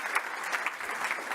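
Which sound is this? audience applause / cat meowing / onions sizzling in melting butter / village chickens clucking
audience applause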